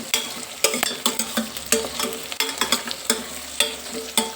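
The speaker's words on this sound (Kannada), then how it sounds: "ಇದು ಎಣ್ಣೆಯಲ್ಲಿ ಸ್ವಲ್ಪ ಚೆನ್ನಾಗಿ ಫ್ರೈ ಆಗಬೇಕು" White brinjal fries in hot oil, hissing softly while a spoon scrapes and taps the pan in quick, regular strokes roughly every half second, close and fairly loud, with no voices.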